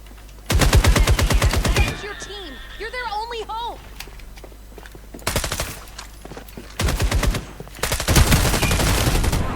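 Rapid automatic gunfire from the free FPS game FragPunk, fired in two loud sustained bursts with a shorter burst between, mixed with chirpy game effects and someone talking.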